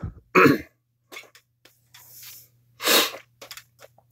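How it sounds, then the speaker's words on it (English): Two harsh coughs, one early and one later, with quieter throat sounds and breaths in between, close to the listener in an otherwise quiet room. "go cough in the other room"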